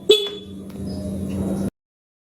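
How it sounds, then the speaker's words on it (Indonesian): A single steady vehicle horn blares for about a second and a half, then cuts off abruptly into silence. "bunyi terakhir adalah klakson kendaraan saat ditekan"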